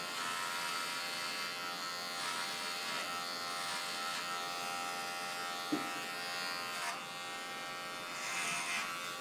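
Electric hair clippers with a 2.5 guard buzz steadily while trimming a boy's hair at home, a continuous close hum with slight shifts in pitch and a brief knock partway through.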